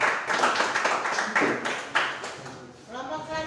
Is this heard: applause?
yes